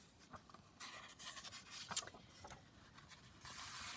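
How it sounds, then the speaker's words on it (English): A paper page is torn off a book while making journal pockets and pages, heard as faint, close, scratchy ripping bursts in an otherwise quiet room. "I'm just going to tear off the book page then."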